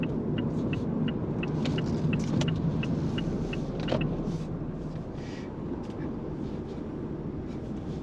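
A Mazda MX-5 ND2 rolls through a tight Swindon neighbourhood between parked cars, its engine a steady low rumble with faint light ticks and clicks over the top.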